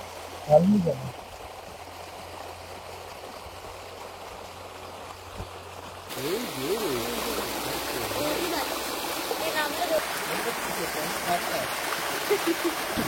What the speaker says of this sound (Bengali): জলের শব্দটা এখান থেকেও শোনা যাচ্ছে।